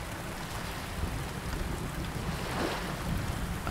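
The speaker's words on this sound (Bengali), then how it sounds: "নৌকার মাঝি ধীর গতিতে নৌকা চালাতে শুরু করল" A slow-moving rowing boat on a river in a cartoon horror tale gives a steady, faint wash of water and wind noise with no voices.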